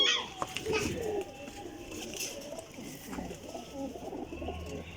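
Golden Ferozpuri pigeons coo steadily at close range in a busy outdoor setting, with children playing and voices talking throughout.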